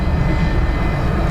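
Airliner engines roaring steadily on the runway at Dublin Airport during takeoff, a loud, unbroken low rumble with a whine above it and no speech.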